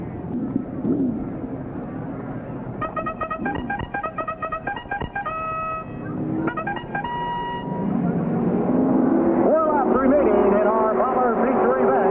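Bomber-class race cars roar around the Knox County Raceway during a 1999 memorial feature race, a loud engine drone that rises and swells toward the end, while an announcer talks over the public address throughout.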